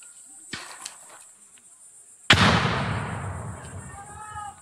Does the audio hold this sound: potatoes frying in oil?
no